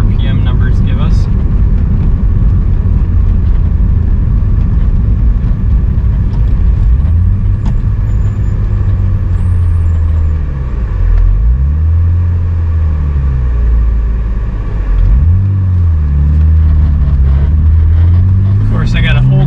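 BMW E36 with a forced-induction M50 engine pulls hard under full throttle, a loud close-up drone that climbs in pitch through the gears with short dips at each shift, heard from inside the car.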